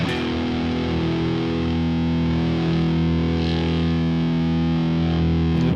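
Electric guitar played through a Polychrome DSP Nunchuck distortion pedal rings out as one sustained, heavily distorted chord, loud and alone, cut off at the end.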